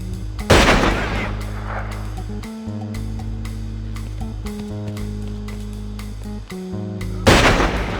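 AK-47 fire in The Godfather II video game: a rapid run of sharp shots over a low droning game music bed, with heavier blasts near the start and end.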